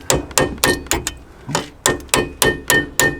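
A rubber mallet strikes Brembo big brake parts on a Mk2 Focus ST, about a dozen sharp, loud, close knocks in a quick irregular rhythm with a brief pause in the middle.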